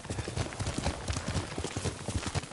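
Horse hooves clip-clop steadily at a walking pace in the video game Ghost of Tsushima, a close, even run of soft thuds over a constant outdoor ambience, with no speech.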